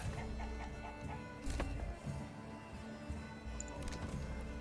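Chickens clucking in the medieval city-building game Manor Lords, a busy cluster of short clucks and calls over a steady bed of ambient village noise, with no voices.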